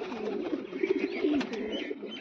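Pigeons coo close by in a short run of soft, throaty, warbling calls.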